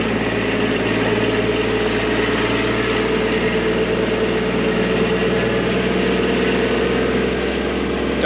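A Kubota RTV 900 utility vehicle's engine drones steadily and loudly throughout, a constant low rumble with no breaks as it drives out from a garage.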